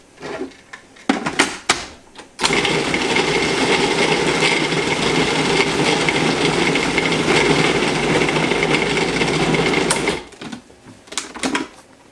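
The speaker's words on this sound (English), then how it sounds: "So I'm just going to put it in my food processor." A food processor whirs loudly for about eight seconds while pureeing a gyros meat mixture into a thick paste, with brief knocks and handling clatter before and after the run.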